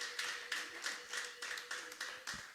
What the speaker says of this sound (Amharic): እስቲ በደንብ አጨብጭቡ እስቲ ለእግዚአብሔር።